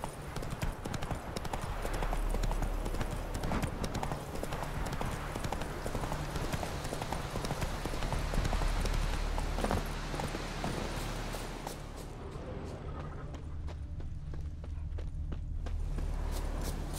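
Roach, Geralt's horse in The Witcher 3, trots with a continuous, even clip-clop of hooves over a steady ambient bed, fairly close and moderately loud.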